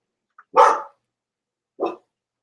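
A dog barks twice, close and loud, the second bark shorter and softer after a pause of about a second, with nothing else heard.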